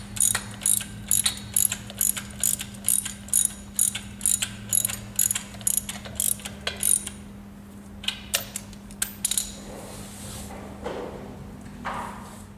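Ratchet wrench turning the chain tensioner bolt near a motor mount: a rapid run of sharp metallic clicks in even strokes, then slower, scattered clicks and scraping, close, over a constant low hum.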